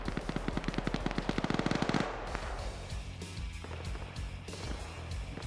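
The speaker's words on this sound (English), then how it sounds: "Looks like you see some long-distance shots coming from that tower, though." Rapid bursts of automatic gunfire in a video game match, loud and sharp for about two seconds before fading into scattered distant shots and low game ambience.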